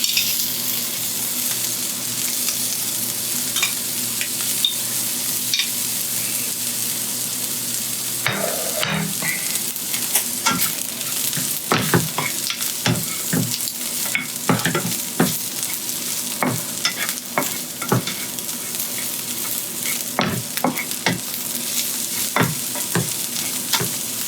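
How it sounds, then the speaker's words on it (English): Leftover seasoned beef dropped into a hot pan for fried rice: a soft hum first, then a sudden burst of sizzling with repeated crackles and spatula scrapes that continues evenly. "put the beef in there"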